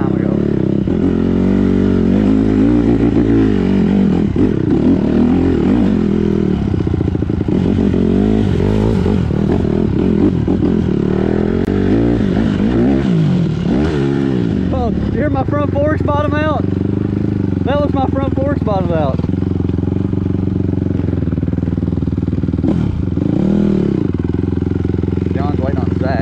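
A Honda CRF150RB dirt bike coasts down a hill on a trail with a steady, close engine drone, gear clatter and scraping from the terrain, and brief rising revs near the end.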